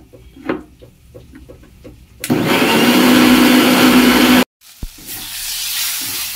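A mixer grinder grinding spice paste roars loudly for about two seconds, stops abruptly, then starts again with another steady whir, following some faint kitchen clatter.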